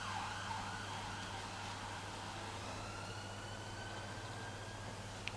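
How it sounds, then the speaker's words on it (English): An ambulance siren wails faintly in the distance, rising and falling steadily beneath a constant low hum of the room. "That's a loud siren. It's a fire. Oh, it's an ambulance"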